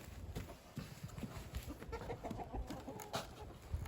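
Hens cluck steadily in a treehouse chicken coop on an off-grid Alaskan homestead, a busy, close, continuous chorus of overlapping clucks and squawks with no speech.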